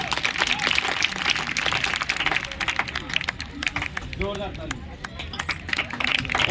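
A seminar audience claps at a DTM achievers event in Radha Krishna Garden, Gurgaon, with a steady stream of crowd clapping running under loud talk from a speaker throughout.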